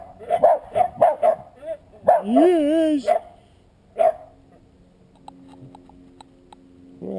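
A pet dog playing in a backyard lets out a quick run of sharp, close barks, then a drawn-out whining yelp, followed by softer barks while a person speaks briefly.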